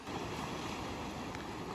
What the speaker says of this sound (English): the water is beating against them